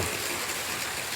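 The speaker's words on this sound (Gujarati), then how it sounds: "કેવો વરસાદ આવે છે" Heavy rain pouring onto a village house and water gushing off the roof, forming a steady, dense, even rush of noise with no pauses.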